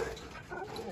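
Golden retrievers at a large kennel give soft whimpers and short yips, quiet and somewhat distant, with light background noise and no clear talk.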